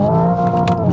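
Simulated engine noise from a Hyundai Ioniq 5 N electric car plays as a loud, steady synthetic motor drone with harmonic layers, briefly shifting as if through a paddle gear change, heard close with no talk.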